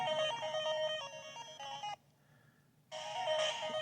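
A DMG Game Boy sound chip plays LSDJ tracker music in bright chiptune square-wave tones with a rhythmic melody, stops for about a second with only a faint tone, then resumes just as loud.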